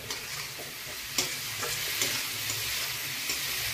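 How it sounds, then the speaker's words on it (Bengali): Onion fries in a pan while being stirred for semolina upma, a steady close sizzle with scattered scraping clicks of the spoon against the pan and no talking. "একটু হালকা পেঁয়াজটা ভাজা ভাজা হয়ে যায়।"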